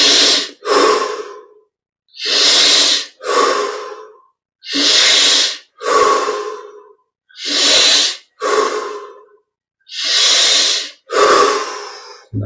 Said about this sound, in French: On augmente l'amplitude des respirations.